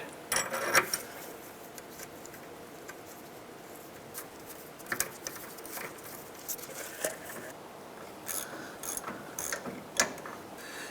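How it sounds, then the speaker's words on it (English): Ratchet wrench unthreading an inner tie rod end from the steering rack of a 2005-10 Jeep Grand Cherokee, with bursts of quick metallic clicking and scattered clanks at close range, no talk. "go ahead and unthread the inner tie rod end"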